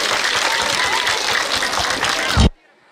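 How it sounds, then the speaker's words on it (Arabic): Audience applause at a closing celebration of a children's amusement park, a dense steady wash of clapping from a crowd that fills the clip and stops abruptly near the end. "تصفيقة تصفيقة كامل."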